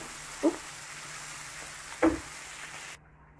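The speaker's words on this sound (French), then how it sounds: "pendant que nos légumes sont en train de rissoler et les pommes de terre en train de frire" Vegetables and potatoes fry in a pan with a steady, close sizzling hiss. Two sharp utensil knocks punctuate it before the sound cuts away abruptly near the end.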